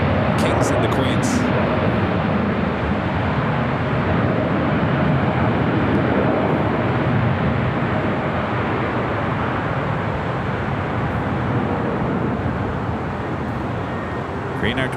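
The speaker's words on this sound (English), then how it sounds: "Green Air Cargo 777 freighter should be making a left-hand turn at Alpha 8" A Boeing 777 cargo freighter taxiing at LAX, a steady broadband jet engine roar holding constant, with a voice talking over it.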